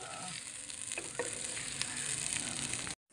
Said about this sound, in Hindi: ठीक है जी आधा किलो प्याज हैं इसी आयल में दादो अम्मा इसको ब्राउन कर लेंगे